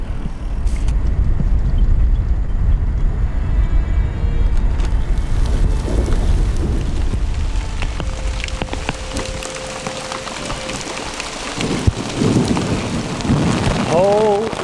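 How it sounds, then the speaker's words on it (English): Heavy rain pours and thunder rumbles directly overhead during a lightning storm on a bicycle tour through South East Asia, with a deep continuous roll of thunder under steady rainfall and scattered sharper cracks and drips. "The thunder is just right above us and it's just been flashing all over the place."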